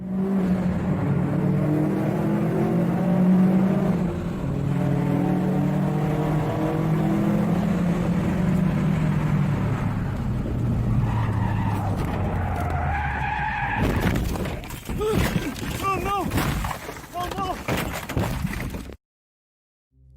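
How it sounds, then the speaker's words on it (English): A 2004 Subaru Forester XT speeds through tunnels and loses control, recorded from a dashcam, with a long steady engine and road roar, then tyres screeching loudly for several seconds before the sound cuts off abruptly. "As he exits one tunnel and enters another, he increases his speed, but soon after loses control of the vehicle."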